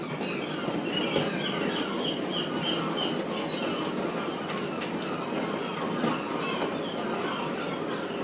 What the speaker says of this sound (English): This is a P3 on a goods train.